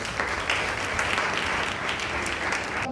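A church congregation claps together in steady, dense applause, close and continuous for a few seconds with no one speaking over it.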